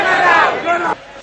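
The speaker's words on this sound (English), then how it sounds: "The demonstration by university students and their parents commenced from the Fort Railway Station." A crowd of demonstrating university students and their parents marching from Fort Railway Station toward the Presidential Secretariat shouts together, a loud massed roar that cuts off abruptly near the end.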